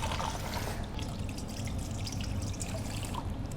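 Continuous trickling and splashing of water poured in a steady stream onto dough while washing it for Tibetan laphing, close by, with no voices.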